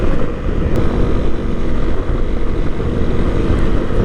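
A Honda CRF 250 Rally motorcycle rides along with a steady, loud, close engine drone mixed with rushing wind noise, no voices over it.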